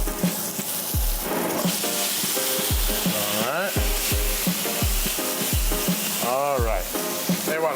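Loud, steady sizzling of steak frying fat side down in a hot pan, with repeated low thumps and clatter of handling; a voice speaks briefly.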